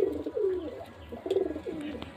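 Desi Giribaj flying pigeons, including a sandy-green one, coo repeatedly up close in a series of low, rolling calls with brief pauses between them.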